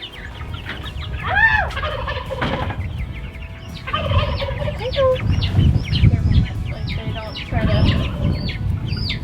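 Turkey chicks gobble and chirp loudly and repeatedly while being caught, with rustling and handling noise close by and voices talking underneath.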